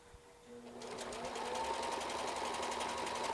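A sewing machine starts up and stitches a patchwork coat in a steady, close whirring run, rising quickly to a continuous rhythmic hum.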